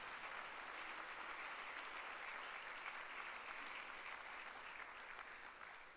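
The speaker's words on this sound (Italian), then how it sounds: "grazie Elisabetta, farei un grande applauso, grazie Elisabetta Sgarbi per" Big, sustained applause from a theatre audience at an Italian summer festival event, dense and steady throughout, fading slightly at the end.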